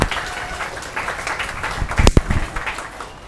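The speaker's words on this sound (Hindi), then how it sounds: "जोरदार तालियां इनके लिए बजाइए।" Audience applause at a coaching seminar, a steady crackle of many hands clapping with a louder burst partway through, fairly close, with a voice talking over it.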